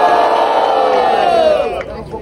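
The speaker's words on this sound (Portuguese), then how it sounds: "Agora, muito barulho! Pra quem gostou das imagens do Faustinho!" A crowd at a Brazilian freestyle rap battle cheers and yells loudly and steadily, a dense roar that fades slightly at the end.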